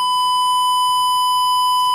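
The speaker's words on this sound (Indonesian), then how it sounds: "ini alarm akan berbunyi yang menandakan berarti" The low-level water tank alarm on a Blynk automatic water pump controller gives a continuous, loud, steady electronic tone that holds at one pitch with no breaks.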